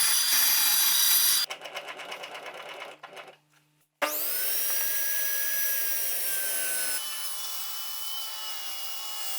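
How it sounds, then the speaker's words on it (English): A bandsaw rough cuts a hardwood board, giving a loud, steady whining buzz with a rasping cut that drops out briefly mid-way, then resumes as a high, sustained motor drone with no talking. "I rough cut it in the bandsaw just a small bit outside of the marked line."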